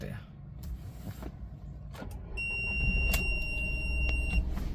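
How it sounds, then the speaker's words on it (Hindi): A Volkswagen Polo is started with the ignition: a few faint clicks come first, then a low engine hum rises and settles into a steady idle while thin electronic dashboard warning tones sound over it. "और गाड़ी स्टार्ट करते हैं।"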